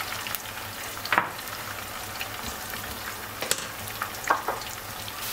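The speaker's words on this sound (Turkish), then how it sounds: "Patatesi de hafifçe kızartayım." Diced potatoes frying lightly in a pot on the stove, with a steady close crackle and sizzle throughout and a few sharp stirring clinks.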